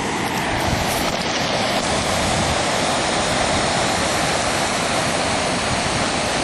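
Continuous roar of ocean surf on a Santa Monica beach, loud and close, broadband wash of water breaking with no pauses and no voices.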